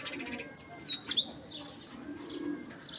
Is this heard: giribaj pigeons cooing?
yes